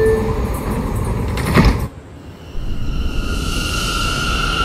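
An R179 New York subway train on the C line: a clanking thud as the doors close, then a brief hush before the motors hum and whine rising as the train starts to move.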